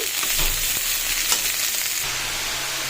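Shredded cabbage stir-fries with dried shrimp in a hot pan, giving a dense, continuous sizzle with light stirring scrapes, close and steady throughout.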